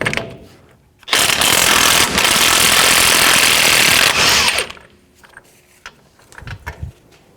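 A powered impact tool hammers off a rusty front axle nut through a 36mm socket on a 1997-2004 Dodge Dakota, one loud continuous rattling burst of about three and a half seconds, followed by quieter clinks and handling noises.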